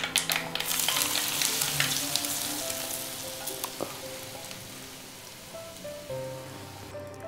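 Ghee with sesame seeds and dry spices sizzles as a tempering for Gujarati muthiya dhokla, a bright crackling hiss that starts strong and gradually fades, with faint background tones and no talking.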